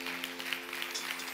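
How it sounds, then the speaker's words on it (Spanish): A church congregation claps in a brief, faint patter of applause, with a low steady musical hum underneath. "Dele un aplauso a Dios si usted lo cree."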